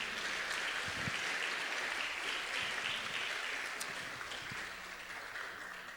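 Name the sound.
congregation applause in church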